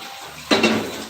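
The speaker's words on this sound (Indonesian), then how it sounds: "Saya cuci dulu pancinya sebentar, ini untuk nanti ngerebus" A cooking pot is rinsed in a home kitchen before being used for boiling: a sudden close clank of metal, then a second knock over steady splashing and rinsing noise.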